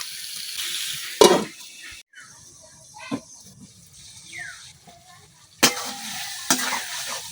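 Potatoes and beans are stir-fried with spices in a pan, with soft sizzling broken by several sharp scraping stirs of a utensil against the pan and quiet pauses between them.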